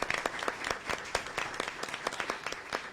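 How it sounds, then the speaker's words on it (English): Small-room applause from a modest audience at a school board candidate forum, individual claps distinct and irregular, faint and brief. "let's give them a round of applause"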